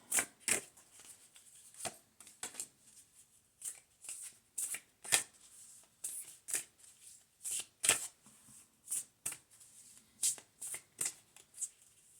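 Cards are shuffled repeatedly in quick riffling bursts, crisp and close, with short pauses between each shuffle and no talking.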